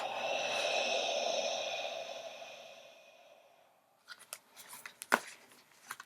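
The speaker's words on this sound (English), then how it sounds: "I breathe on my cards a lot" Breath blown onto tarot cards: a long, soft breathy exhale for about four seconds, fading out, followed by light papery card handling sounds and a few small sharp taps.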